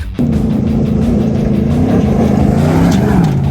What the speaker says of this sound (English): Excuse the rattling on my truck.